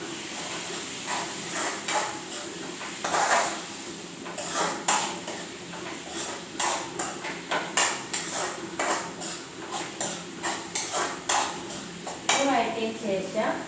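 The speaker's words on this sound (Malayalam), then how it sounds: "ഇട്ടൊന്ന് വഴറ്റാം." Tomato and fennel seeds are sautéed and stirred in a pan for an appam tomato roast, with a spoon repeatedly scraping and clinking against the metal over a low sizzle while a person talks throughout.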